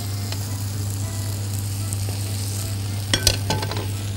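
Chicken pieces sautéing in a pan for orange chicken, a steady sizzle and fry throughout with a few brief stirring clinks and scrapes near the end, close and fairly loud.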